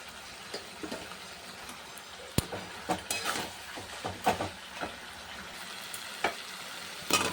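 Fish heads frying in spiced oil with turmeric, giving a low, steady sizzle broken by scattered sharp crackles and stirring clatter, close up and with no voices.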